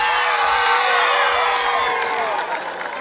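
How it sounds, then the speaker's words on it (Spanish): A crowd at a fiesta in Azacualpa, Chalatenango, cheers loudly with whoops, shouts and some clapping, a dense continuous roar that eases slightly toward the end. "¡Aplauso fuerte para la pareja número 2!"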